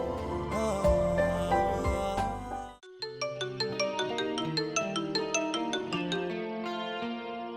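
A phone ringtone plays a bright, repeating melodic pattern with evenly spaced notes, loud and close, following a few seconds of denser music that cuts off abruptly.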